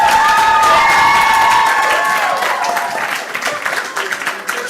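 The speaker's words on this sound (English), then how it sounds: "Let's give it a round of applause." Loud applause and cheering from a crowd at a young professionals' workshop, steady at first then thinning out toward the end, with some shouting mixed in.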